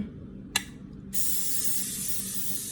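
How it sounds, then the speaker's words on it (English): A short click from the can, then a steady hiss of cooking spray onto a baking pan continuing to the end, close and fairly quiet. "We're gonna spray our pan down because we don't want our little canoes to stick."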